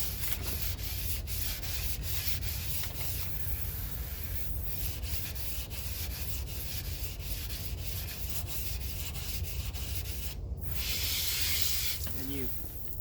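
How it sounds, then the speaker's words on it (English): Continuous scraping and rubbing of sandpaper wet sanding a 1972 Dodge Dart body panel, a steady gritty hiss with brief pauses, close and fairly loud. "That's why it's called wet sanding."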